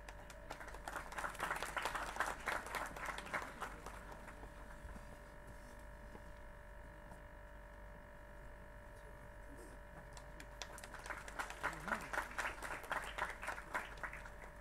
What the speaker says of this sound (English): requesting everybody to please applaud loudly for their